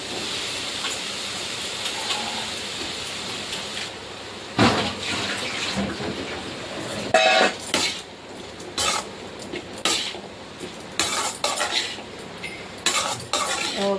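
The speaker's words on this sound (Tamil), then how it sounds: "ஸோ இந்த ஸ்டேஜில் நான் உருளைக்கிழங்கு சேர்த்துக்கிறேன்" Clinking and scraping of a utensil against a pan as potatoes are added and stirred for aloo methi, with intermittent clattering bursts over a low background hiss.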